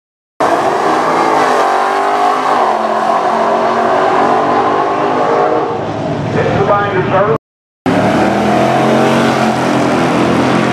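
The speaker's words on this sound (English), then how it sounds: "There he goes. 5-liter Mustang." A 5-liter Ford Mustang races at Irwindale drag strip, its loud V8 roaring close and sweeping as it accelerates, shifting pitch through gears before a short cut-out and a renewed roar, with voices and crowd noise mixed in.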